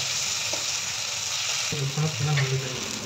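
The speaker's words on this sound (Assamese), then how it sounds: "বিলাহীখিনি গলি যোৱালৈকে ভাজি লৈছোঁ" Tomatoes sizzle in hot oil nearby, frying until soft, a steady crackling hiss, with a few knocks from stirring and a brief voice toward the end.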